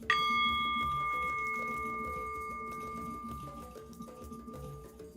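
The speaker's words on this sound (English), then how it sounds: "by the sound of the bell" A single bell is struck once and rings out with clear sustained tones that slowly fade, leaving a soft lingering hum in a quiet room.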